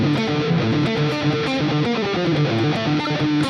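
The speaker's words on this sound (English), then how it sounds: "Really great riff, which is not easy, which is using a lot of pedal tones, open strings." Distorted electric guitar riff built on pedal tones and open strings, a fast, steady run of picked notes alternating against a repeated low note, loud and continuous with no voices.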